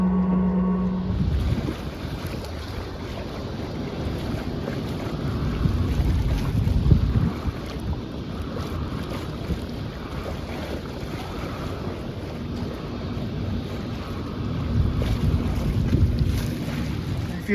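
Boat running on a repaired electric motor and propeller shaft, its steady low hum mixed with wind buffeting the microphone and water noise, continuous and fairly close, with no talking.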